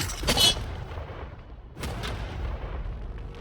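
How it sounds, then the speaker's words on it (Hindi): A missile tank fires a round at a target of cash, one loud, close boom that fades into a rumbling tail and then a long dusty roar with no voices. "ये 5 टैंक्स पैसों पर निशाना लगाकर 20 राउंड फायर करने वाले हैं"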